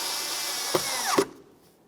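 A power tool runs briefly while driving a 7mm bolt into a tow mirror on a 2007-2017 Ford Expedition, a close buzzing whir that rises, gives two short ratcheting catches, then cuts off into silence.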